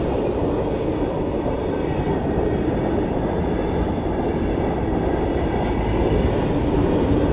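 A long goods freight train hauling steel rumbles past nearby, a loud, continuous low roar of heavy wagons rolling on the rails without letup.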